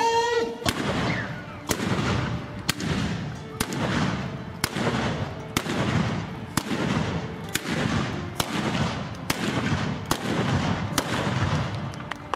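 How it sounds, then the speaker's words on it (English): Japanese matchlock guns fire in sequence, giving about a dozen sharp, loud reports at a steady pace of roughly one per second, each followed by a rumbling tail over continuous background noise. "fire in sequence, giving the impression of non-stop,"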